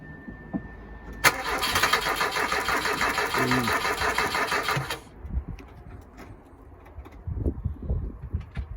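An old car engine, unstarted for nearly five years, cranks and sputters loudly for several seconds, then cuts out, leaving faint knocks and rustling.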